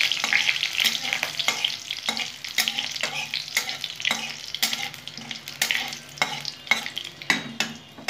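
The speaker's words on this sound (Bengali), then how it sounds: "একটু ভাজা ভাজা হবে বন্ধুরা।" Panch phoron and two dried red chillies sizzle in hot oil, the base for a tamarind chutney, with crackling bursts and repeated spoon scrapes against the pan, close and unbroken by voices.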